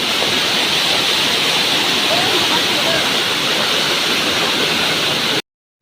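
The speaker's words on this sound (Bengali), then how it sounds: "শুনতে পেলেন নিশ্চয়ই যে ঝর্নার জলটা এত জোরে আসছে" A strong waterfall on a hillside pours down in a loud, steady, unbroken rush of water close by, with no voices, cutting off abruptly just before the end.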